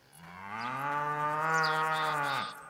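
A cow in the video game Rising World gives one long, loud, close moo that swells and then tapers off, heard alone.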